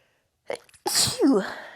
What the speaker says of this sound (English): I tried to avoid that sneeze and I could not.